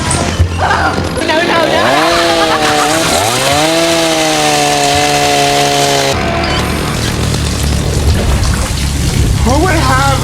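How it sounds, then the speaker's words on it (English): A chainsaw snarls and revs loudly in a psych ward scene of a TV drama, its pitch climbing and holding in long strained bursts over heavy rain-like noise, with voices briefly audible. "Who would have a chainsaw in a psych ward?"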